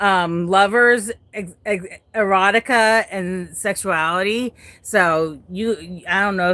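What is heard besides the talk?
No everyday noises stand out.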